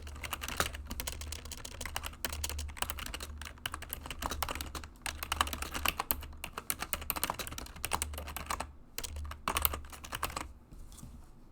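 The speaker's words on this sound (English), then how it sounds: "I could hear you typing very intense." Intense, rapid typing on a computer keyboard, a dense continuous stream of close clicking keystrokes with no talk, briefly pausing near the end.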